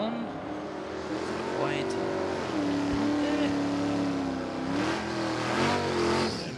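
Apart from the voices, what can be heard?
drag race between old school Mustang and Dodge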